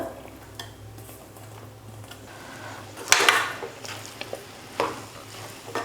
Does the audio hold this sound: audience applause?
no